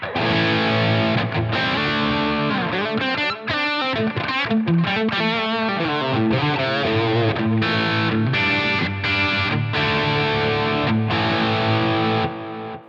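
A distorted electric guitar with subtle compression, through a Line 6 Helix, plays a busy melodic riff with sustained chords and quick runs, evenly level and steady throughout, no voices.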